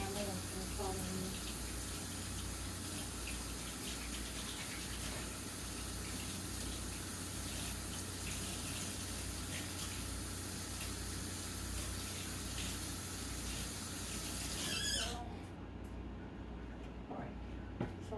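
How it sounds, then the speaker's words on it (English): Hands are washed under a running kitchen tap with a steady, close gushing stream for about fifteen seconds. The water then shuts off abruptly, leaving a quieter room. "let me wash my hands"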